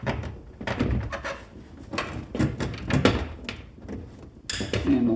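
Sharp plastic clicks and dull thunks as an electrical connector is pushed into the door of a 2008 Infiniti FX35 during a power window repair, a run of close handling knocks with one louder snap near the end.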